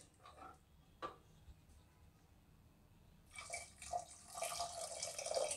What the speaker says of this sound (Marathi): 1 ग्लास पाणी घालायचं आहे आपल्याला.